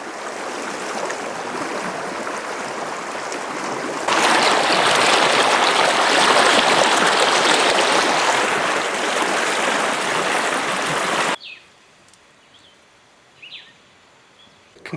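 The Escalante River in Utah rushes loudly and close by in a steady broadband roar that swells louder partway through, then cuts to a much quieter outdoor scene with faint birdsong.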